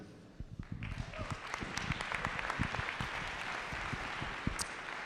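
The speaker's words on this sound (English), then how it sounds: "Let's give them one more round of applause." Audience applause at a 2023 KCMT event, dense sustained clapping from a crowd, loud and even, starting up and carrying through to the end.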